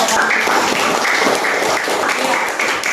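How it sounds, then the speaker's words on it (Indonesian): A classroom audience breaks into loud, sustained applause, a dense wash of many hands clapping close by that fills the room steadily throughout. "Kita berikan aplaus kepada"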